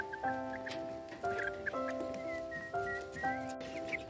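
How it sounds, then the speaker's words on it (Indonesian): A serama chicken clucking and chirping in short, clear tonal calls, close by and fairly soft, with a light background hiss. "Wow, ada ayam serama teman-teman."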